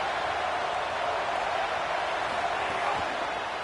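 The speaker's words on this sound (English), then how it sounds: "Decibels rising as the crowd gets behind this defense on third down." A football stadium crowd roars for the defense on third down, a broad sustained wash of cheering that stays loud and steady, with a voice speaking faintly over it.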